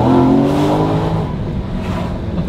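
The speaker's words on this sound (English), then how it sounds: "That second gear shift was no joke." Loud, close car engine revving hard with rising tonal pitch, then a sudden drop and a second pull as the driver shifts into second gear, steady and strong throughout with no talking.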